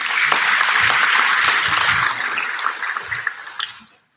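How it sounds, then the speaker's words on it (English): Conference audience applauding the organizers at an IP and innovation research conference in Asia, a loud steady wash of clapping for about two seconds that thins into scattered claps before stopping. "Please give applause to our organizers."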